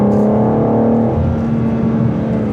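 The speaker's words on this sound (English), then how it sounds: "I will do a quick 3rd gear pull." A G87 BMW M2 with a twin-turbo engine pulls hard in third gear, its loud, steady engine drone and harmonic whine holding continuously close up with a slight rise in pitch.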